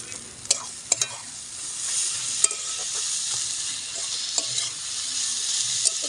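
Banana flower fries with spices in a pan, giving a constant close sizzle broken by sharp scrapes and clicks as it is stirred.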